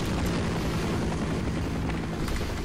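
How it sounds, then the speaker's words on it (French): A helicopter attacks the player in the Half-Life game, a loud continuous rotor roar with a rough low throb and bursts of gunfire-like noise, heard alone without talk. "J'adore me faire allumer par l'hélico."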